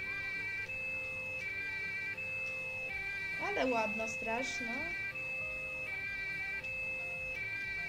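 A steady, pulsing police car siren sounds throughout at moderate distance while a person talks over it.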